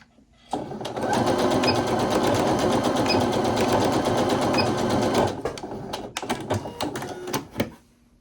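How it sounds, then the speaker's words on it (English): A sewing machine stitches a seam in one loud, steady, close run of about five seconds, then stops and starts in several short bursts as it back stitches. "I'm gonna sew about 1/2 inch away from the corner and then back stitch a few times to secure that seam"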